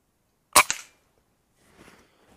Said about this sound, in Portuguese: Acompanhando o momento exato do disparo.